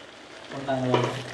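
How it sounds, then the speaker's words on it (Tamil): Chicken curry sizzles and bubbles in a pot up close, a steady frying hiss rising as it heats, with no talking. "இந்த சட்டில இருந்து அப்படியே குழம்பு கொதிக்குது"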